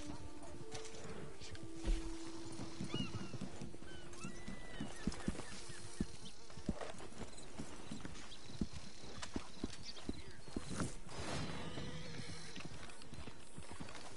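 A horse in Red Dead Online gallops on at length, quick hoofbeats drumming steadily up close amid a dense outdoor game soundscape, with a few sharp accents and neighs, and no speech.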